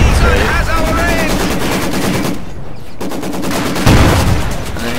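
Video game battle gunfire from Company of Heroes 2, with dense, loud, continuous bursts of heavy machine-gun and artillery fire and explosions, briefly dipping near the middle before picking up again, under a faint voice.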